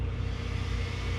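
Arrma Kraton 12S RC car powering on, a steady close electronic whine and hum with a faint pulsing tone, continuous and even throughout.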